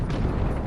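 An A43 tank fires its gun in the World of Tanks video game, a loud, close, booming blast with rumbling low-end that fills the brief moment.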